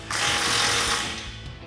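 A 15mm socket tightening an exhaust clamp on a Jeep Wrangler, one short, close burst of whirring mechanical noise about a second long.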